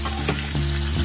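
Chopped onion sizzles in a pan still holding browned meatball drippings, a steady close frying hiss with faint stirring scrapes and no talking.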